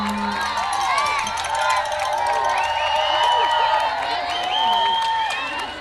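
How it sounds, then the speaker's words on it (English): Kingston fans cheer their team on at a youth baseball game in the Cal Ripken New England regional tournament against Winchester. Shouts and whoops sound from a crowd of moderate size, with scattered clapping, and a commentator talks over it. "Kingston fans starting to cheer their team on."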